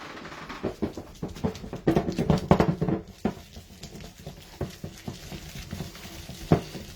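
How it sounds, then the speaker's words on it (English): A whisk stirs a cheese sauce in a pot for homemade black mac and cheese, giving a run of quick, uneven scraping taps and wet sloshing strokes, close and moderately loud, with no talk. "A whisk, mix it together, just bring everything up."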